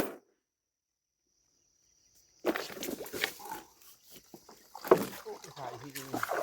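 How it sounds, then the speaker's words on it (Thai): Water splashing and knocking sounds from paddles and a canoe on a river, with people talking nearby after a quiet start. "เดี๋ยวพายกันเนาะ"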